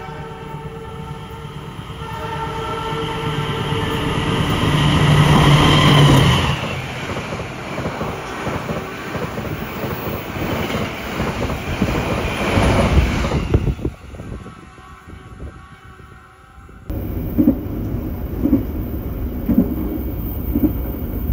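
The Pasundan passenger train rolls into Langen station, a loud continuous rumble of wheels and carriages that eases as it slows, then steadies again toward the end.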